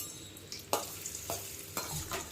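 Cashews and raisins roast in oil in a pan over a low flame. A quiet, steady sizzle runs throughout, broken by three distinct stirring scrapes, with no talking.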